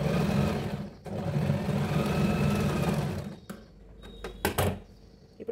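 A sewing machine stitches the back panel of a crop top, running in a steady loud whir for about three seconds, then stopping, with a few sharp clicks and knocks of handling afterward.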